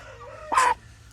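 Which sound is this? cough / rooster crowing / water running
rooster crowing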